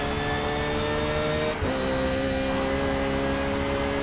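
Race car in Forza Motorsport at an endurance event, engine droning with steady harmonic whine, dipping briefly under braking around mid-clip then pulling back up as it accelerates, loud and continuous with no talk.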